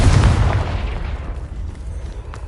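A Confringo blasting spell explodes in Hogwarts Legacy with a single loud, deep boom at the start that rolls and fades away over about two seconds.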